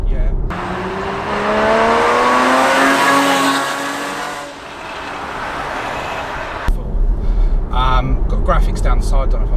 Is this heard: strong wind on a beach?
no